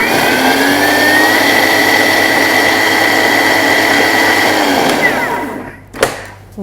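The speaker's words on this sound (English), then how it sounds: "we're just going to mill that for 4 seconds on speed 8" A Thermomix blade mills lemon, corn flour and caster sugar on speed 8, giving a loud, steady high-speed whirring roar for several seconds that cuts off abruptly near the end.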